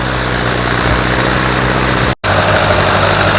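An old antique tractor engine runs steadily at a plow day in northern Maine, a loud continuous low drone with even harmonics, briefly cutting out for a split second before resuming.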